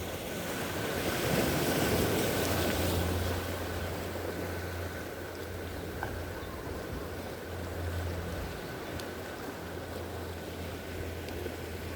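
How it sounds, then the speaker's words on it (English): Big roller waves break along an open shoreline, a broad continuous roar of surf with wind buffeting the microphone, swelling and easing without any voices. "Can you see those great big roller waves coming in?"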